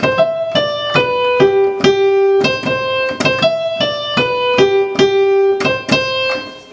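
Solo piano plays the second part of the Wedding March, a steady run of clear, ringing single notes and light chords, close and distinct with no voices over it.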